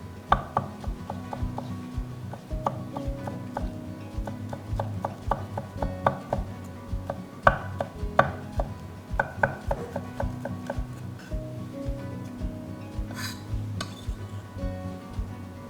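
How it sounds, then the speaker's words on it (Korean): A knife slices steadily through leafy vegetables, two sheets stacked at a time, into thin strips on a wooden cutting board, with quick rhythmic taps and an occasional clink of a utensil. "한 2장씩 포개 놓고 채 썰게요"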